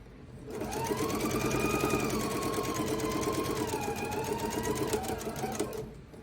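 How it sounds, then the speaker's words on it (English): A sewing machine runs steadily, stitching half square triangle quilt pieces, with a continuous close whirring hum and rapid needle rhythm lasting about five seconds, with no voices. "I'm going to sew almost to that pin"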